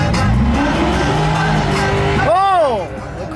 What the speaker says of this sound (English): the Corvette did a burnout